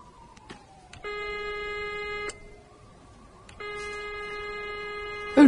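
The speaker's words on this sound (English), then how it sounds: "the doctor's phone begins to ring" An old-style telephone in a doctor's office rings in two long electronic trills, each lasting over a second with a pause between, clear and fairly loud with no talk over it.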